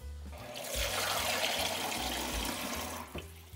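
Water pours steadily into a DIY smart pumpkin container being tested for leaks, a continuous close rushing splash that lasts for several seconds before tapering off at the end.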